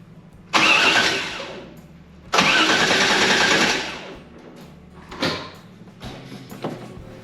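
The 500 hp LS3 V8 in a 1992 Firehawk tribute car cranks over without catching. Two loud, steady cranking bursts of a couple of seconds each are followed by two quicker, fainter turns of the starter.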